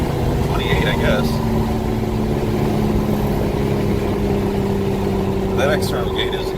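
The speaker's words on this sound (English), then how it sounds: "That external gate is loud." A turbocharged car fitted with an external wastegate runs loudly, a steady droning engine note with a couple of brief sharp hissing bursts from the gate near the start and end, while a person talks over it.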